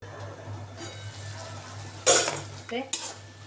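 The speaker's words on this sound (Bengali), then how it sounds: "মোচাটাকে দিয়ে দিয়েছি এখানে বেশ ভালো করে আবারও কষে টষে ভালো করে নেড়ে চেড়ে দিচ্ছি" Banana flower curry being stirred in a pan, a low steady hum with soft scraping and a couple of sharper utensil knocks against the pan near the end.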